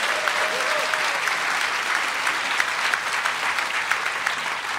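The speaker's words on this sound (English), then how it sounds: "Let's have a huge round of applause" A festival audience inside a tent at the Edinburgh Festival applauds in a sustained, dense round, many hands clapping steadily with a few sharper claps and a brief whistle near the start.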